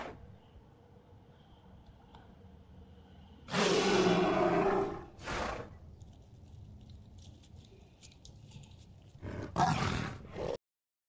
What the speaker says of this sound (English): is awoken by a loud roar